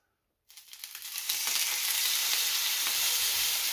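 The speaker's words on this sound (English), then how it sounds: "Searing, I'm going to probably sear this for about 2 minutes each side." Rib-eye steak searing in a hot frying pan: after a moment of silence a sharp crackle breaks out, then settles into a loud, steady, close sizzle with popping spatter throughout.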